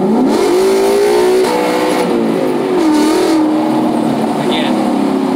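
A car engine revs up on a downshift, a loud close rising and falling drone with shifting pitch, heard from inside the vehicle while a person talks over it.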